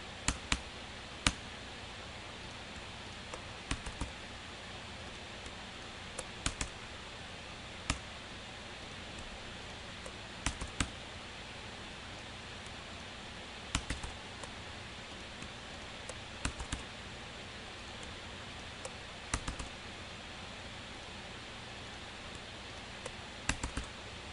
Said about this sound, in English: I'm just typing these things in because I know the commands